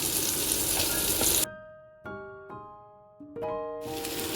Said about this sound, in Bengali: ওটার পেঁয়াজটা দিয়ে দিলাম, পেঁয়াজটার মধ্যে অল্প করে একটু নুন দিয়ে দিলাম, নরম হয়ে যাবে তাড়াতাড়ি।